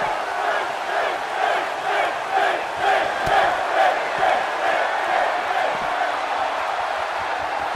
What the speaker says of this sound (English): the crowd's on the edge of their seats. That slam just brought this entire arena to its feet.